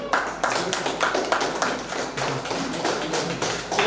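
An audience applauding at a public speaking training session to welcome a team member, steady dense clapping throughout, fairly close and loud, with no speech over it.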